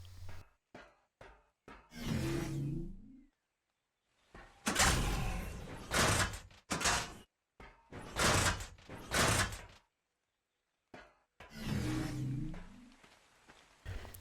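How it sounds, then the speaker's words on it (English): In the game Ark Survival Evolved, an invisible door closes and double doors swing open, giving a series of loud mechanical thuds, slides and bangs with short silences in between and no talking. "walking on this foundation should close the invisible door and open the double doors"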